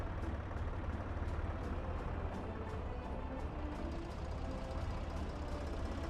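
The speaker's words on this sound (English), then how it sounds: "I think we just heard the tractor start up" Tractor engine in the video game Workers & Resources: Soviet Republic, a steady low diesel rumble with faint rhythmic clicking above it, running continuously at a moderate level with no talk.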